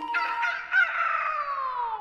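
Cartoon hens give a loud, close, drawn-out squawking cackle lasting about two seconds, with no talking over it.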